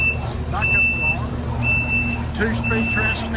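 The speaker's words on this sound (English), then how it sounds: "Backup alarm." Backup alarm on a 2023 Kubota SVL97-2 compact track loader with a forestry package, sounding as regular, evenly spaced high beeps over idling engine rumble, while someone talks nearby.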